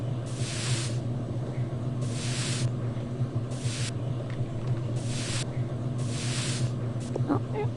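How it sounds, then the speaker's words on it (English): A face spray in the Toca Boca game gives five separate short, bright hissing bursts at a steady pace over a low background hum. "Some face spray."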